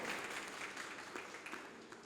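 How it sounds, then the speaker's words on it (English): Audience applause for author H.M. Naqvi at a book event, a steady wash of clapping that stays fairly faint and distant for about two seconds. "an applause for H.M Naqvi"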